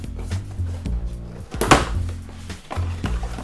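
Cardboard flaps on an Arlo Pro camera box are pulled open, making soft thunks and one sharp rustling scrape, heard close up over a low steady hum.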